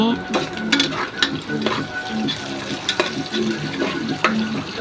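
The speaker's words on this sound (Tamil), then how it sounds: "வெங்காயம் நல்லா வதங்கட்டும் கிண்டி விடுங்க நல்லா கிண்டி விடுங்க" Sliced onions fry in a pan for chicken biryani while being stirred, a sizzle broken by repeated scraping and clicking of the spoon at a moderate, close level.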